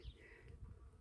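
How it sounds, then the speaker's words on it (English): Bees buzzing around a Palo Verde tree in bloom; a faint, steady hum lasting about a second. "Here are the bees."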